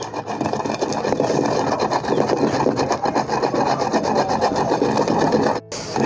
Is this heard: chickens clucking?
no